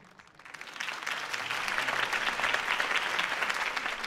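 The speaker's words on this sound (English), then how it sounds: "could have heard that applause" Sustained crowd applause and cheering swells after a mayoral campaign speech for Harvey Dent in Batman: The Telltale Series, a dense, steady clapping that builds over a few seconds and holds at full strength.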